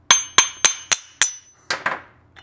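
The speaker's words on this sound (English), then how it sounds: "if you just give it a light tap on it, it'll pop it right off." Light hammer taps knock the flywheel off a STIHL BR800 backpack blower engine, five sharp evenly spaced metallic knocks followed by two softer taps and a faint final tick, close and clear with no talk.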